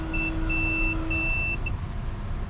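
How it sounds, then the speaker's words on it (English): A multimeter set to continuity gives its steady electronic test beep while checking wiring on an air-cooled vintage VW Beetle; a few clear, close tones of about a second each with short gaps, over a low background hum. "Here's our test beep."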